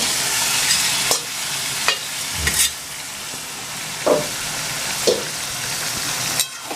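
Mutton marinated in turmeric, salt and mustard oil fries in hot oil, a dense steady sizzle broken by several sharp clanks of a spatula stirring the pan, close up with no voices.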